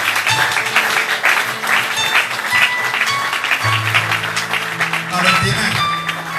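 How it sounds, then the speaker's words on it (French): A church congregation in Strasbourg applauds and cheers for Jesus Christ, a steady dense roar of clapping and voices mixed with worship music playing throughout. "Est-ce qu'on peut acclamer Jésus-Christ?"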